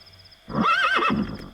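A rental riding horse on Juhu beach gives one loud, close whinny lasting about a second, alone over a quiet background.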